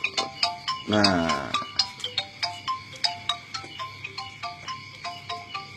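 A mobile phone ringtone plays a rapid, rhythmic series of bright electronic beeps across several seconds, while a person speaks briefly over it near the start.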